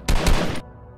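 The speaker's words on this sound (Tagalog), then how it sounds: "Naiputok-putok pa niya yung kanyang baril." A few rapid gunshots in a quick burst from a worker's gun, loud and close, ending abruptly after about half a second into near silence.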